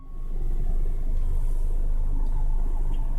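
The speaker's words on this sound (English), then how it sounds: "We're rolling backwards up the hill." A car in neutral rolling backwards up a hill with feet off the pedals, giving a steady low rumble of tyres and cabin noise that rises in the first moment and then holds constant.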